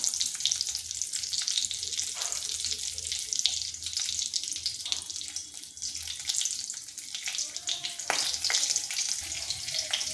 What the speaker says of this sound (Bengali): দিয়ে দিচ্ছি কালো জিরা একটা তেজপাতা আর একটা কাঁচা লঙ্কা চিরা